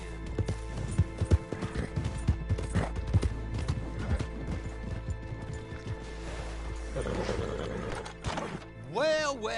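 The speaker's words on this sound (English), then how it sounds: "Get that horse hidden away, Clive, and ready to move out as soon as we can." Video game horse hooves clip-clop in a steady, fairly close rhythm beneath gruff voices talking, with mechanical clanks and a brief whinny-like sweep near the end.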